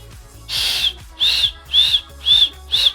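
Five breathy, high whistles from a person through pursed lips, each about a quarter second long, evenly spaced and close, with no talking.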